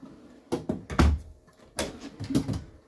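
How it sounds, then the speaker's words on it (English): Storage drawers in a 2019 Grand Design Reflection 367BHS RV slide and thump open and shut, a few close, hollow knocks and rolling sounds in quick succession. "Coming upwards, have a nice drawer."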